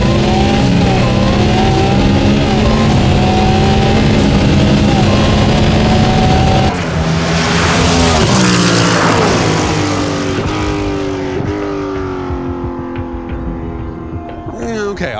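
Cadillac's Le Mans race car, a loud, high-revving machine, screams past an 818-horsepower Ferrari 296, its engine note climbing through gears, then dropping in pitch and fading as it pulls away into the distance.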